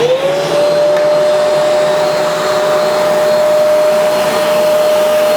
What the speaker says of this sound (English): So what I'll do now is I'll vacuum this up, and that's all proper sawdust from woodworking machines.